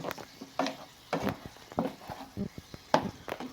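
Kerala-style chicken sukka with tomato being stirred in a pan, giving close scraping strokes in irregular bursts over a soft sizzle.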